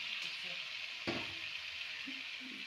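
Potato and cauliflower pieces dropped into a hot pan of spiced bhetki fish sizzle steadily, with a brief louder burst of frying as they hit the oil, continuing close and alone.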